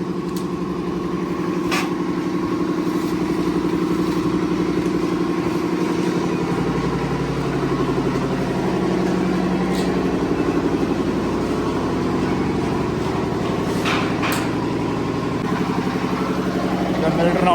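A generator engine drones steadily at close range during a power cut for the whole stretch, a constant low hum with a faint voice underneath.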